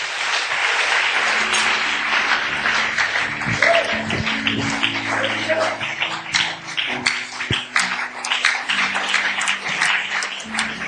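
A church congregation applauds the Lord in sustained, dense clapping that stays loud and steady throughout, with faint voices and tones mixed underneath.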